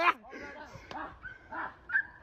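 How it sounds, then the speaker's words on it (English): A dog attacks a person in a city street, giving short yips, whimpers and barks in a few bursts amid other scuffling noise, with some voice-like sound mixed in. "This dog decided that attacking someone who is prepared for it doesn't make sense."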